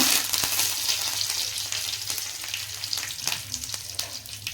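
Curry leaves dropped into hot oil crackle and spit with bright, busy sizzling bursts over a steady hum of frying, close and fairly quiet, with no voices.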